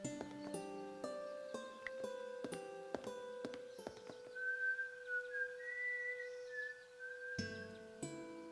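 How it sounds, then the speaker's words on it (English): A tune whistled in the Broken Sword 5 video game, Schubert's Ave Maria, rises above a plucked musical backing as a clear, steady melodic line. "that tune you were whistling earlier, it sounded familiar. Oh, it's Schubert's Ave Maria."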